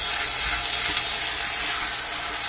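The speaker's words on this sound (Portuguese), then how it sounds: "eu vou colocar leite" Milk is poured into a creamy chicken filling for an empadão, a Brazilian chicken pie, giving a steady, close hiss of liquid streaming into the pan with no talking.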